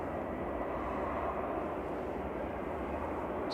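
A Boeing 737-800 airliner lands at Manchester Airport with a steady, even engine roar heard from a moderate distance, holding at a constant level the whole time.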